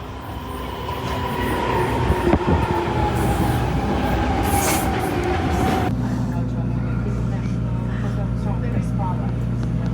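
Train arriving at a Vienna station, a steady loud rolling rumble with a slowly falling tone and a brief squeal, settling into a lower drone as it comes in, close by, with people talking nearby.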